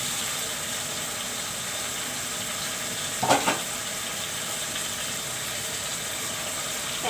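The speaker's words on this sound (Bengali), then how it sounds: "একটু ঢেকে দিয়ে আমি এগুলো কষিয়ে নিব মাছ" Fish and boiled jackfruit seeds frying in a covered pan, a steady soft sizzle throughout with a brief clatter near the middle, no talk.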